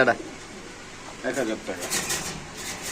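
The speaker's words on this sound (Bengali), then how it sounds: "এখানে কবুতর আছে খুব সুন্দর" Soft pigeon cooing close by at a pigeon farm, low repeated warbling calls with some background murmur.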